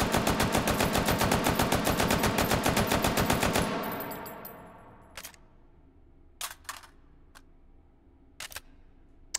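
Full-auto gunfire from the VR game Hot Dogs, Horseshoes & Hand Grenades rattles in a rapid, evenly spaced burst of sharp shots. It fades into a ringing tail, followed by a few scattered mechanical clicks.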